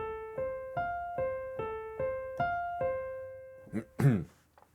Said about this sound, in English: we're going to play the first inversion of F